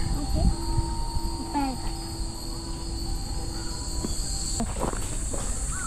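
A cicada shrills outdoors beside a stairway path, a steady high-pitched drone running throughout at moderate distance, with footsteps and faint movement sounds nearby.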